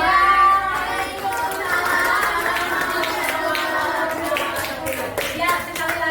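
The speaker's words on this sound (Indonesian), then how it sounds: "Ya, sekali lagi tepuk tangan buat kita semua." Audience in a classroom lesson session gives a steady round of hand clapping, dense and continuous at moderate loudness, with children's voices and chatter mixed underneath throughout.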